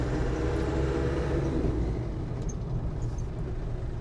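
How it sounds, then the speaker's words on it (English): A 1998 Land Rover Defender 110 Hi Cap pickup with the 300Tdi diesel accelerating through the gears, a low rumbling engine drone from inside the cab, rising and then easing as a gear changes midway. "we'll go ahead and accelerate one more time through the gears"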